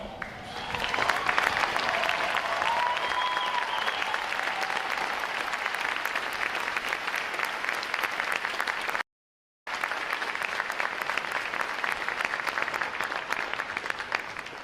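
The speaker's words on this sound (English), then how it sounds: "If all of our veterans, please stand for a round of applause." Crowd applause fills the hall at a Navy recruit graduation ceremony as veterans in the audience stand, steady and dense for about nine seconds, a brief gap, then continuing sustained clapping.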